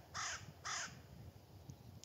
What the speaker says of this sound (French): C'est un corbeau?